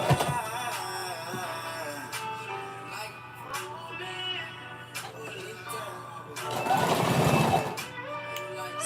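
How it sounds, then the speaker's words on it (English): A home sewing machine stitches all the way around the waistband of a girl's skirt, its motor whirring in steady bursts with a louder, closer rattle toward the end; no one speaks. "So put it in your sewing machine and just literally sew all the way around"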